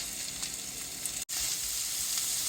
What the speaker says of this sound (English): Saute some onions.